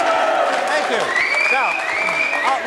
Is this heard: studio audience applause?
yes